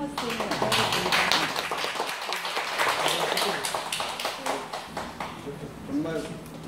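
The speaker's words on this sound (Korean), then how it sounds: "큰 박수로 송형호 선생님을 환영하겠습니다" An audience at a teacher training session at Seongsan Middle School in Jeju claps to welcome a lecturer, a dense, sustained patter of applause lasting throughout with voices mixed in.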